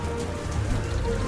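Steady rain falling in the video game Primal Planet, a continuous dense patter that fills the whole short stretch at an even, moderate level with no voices.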